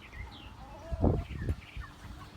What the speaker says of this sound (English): All right, these are all our chickens.